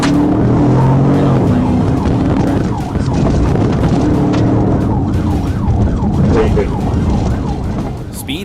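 Police car siren during a high-speed chase through narrow residential streets, wailing sweeps rising and falling over loud engine and road noise from the pursuit, steady and close throughout.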